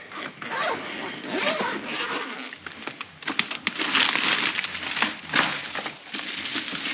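A bag of car accessories for a Ford Mustang Mach E is handled close by, with crinkling plastic, a zipper pull and scraping rustles in quick irregular bursts as items go back inside.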